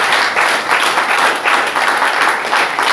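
A church congregation applauds for the Lord, a dense, steady wash of many hands clapping close and loud for the full stretch, with faint voices mixed underneath.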